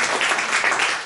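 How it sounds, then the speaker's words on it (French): A short burst of steady applause from a lecture audience, many hands clapping together at close range. "on les applaudit bien fort."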